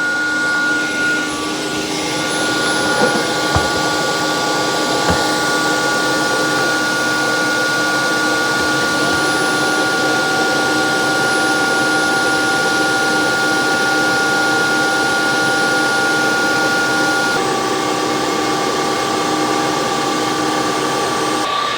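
Steady whirring drone of Tineco S9 Artist Pro and S7 Artist wet-dry floor mops running their heated drying cycle, a constant motor and airflow hum with faint tonal whine, continuous and close throughout.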